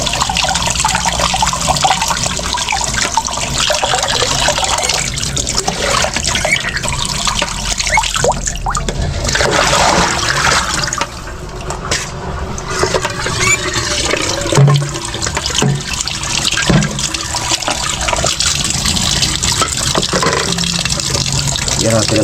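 Water is poured into a pot for pork sinigang, a steady splashing fill with trickling and dripping that pauses briefly midway, over kitchen background noise.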